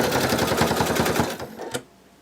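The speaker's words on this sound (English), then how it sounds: "we're going to sew around." A sewing machine stitching a bunny plush runs in a fast, even mechanical rattle up close, then slows, gives one last clack and stops, leaving near silence.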